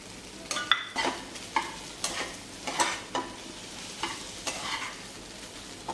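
Fried fish and boiled potato being stirred into spiced oil in a pan, a spatula scraping in repeated strokes about every half second over a soft steady sizzle, close and alone.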